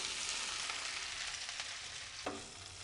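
Muthiya pieces and curry leaves tossed into a hot tempering crackle and sizzle loudly, with stirring scrapes and one brief clink near the end; no voices.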